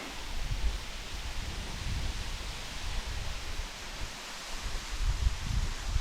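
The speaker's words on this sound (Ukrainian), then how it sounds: "вітер дує і палку згинає по вітру" Wind blows steadily while jig fishing for zander, buffeting the microphone with low rumbling gusts and a soft rustle throughout.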